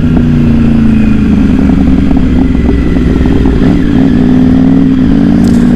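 A brand-new BMW motorcycle pulls away from the dealership, its engine droning loud and steady close by with a slight rise in pitch, no talking.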